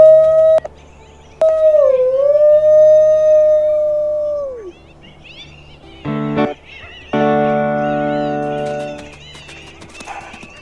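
A wolf in the WolfQuest video game lets out a long, clear, sliding howl that rises and falls before trailing off, followed by shorter synthetic-sounding howls and yips from other canines, loud and close in an otherwise quiet scene.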